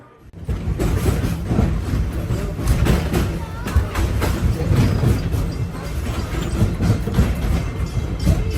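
A theme park train at Disney's Animal Kingdom rolls toward Harambe station with a steady rumble and clacking wheels, and voices carry faintly over the continuous noise of the cars.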